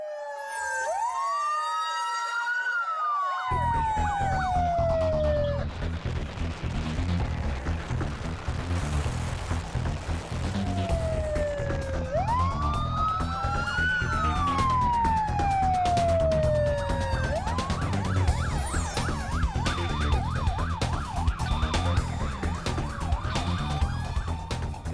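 A wailing emergency siren rises and falls repeatedly over steady traffic rumble, loud and close, with overlapping siren tones sweeping up and down throughout.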